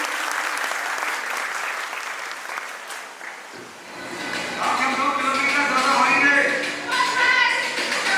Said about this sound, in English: Give it her a big round of applause, everybody.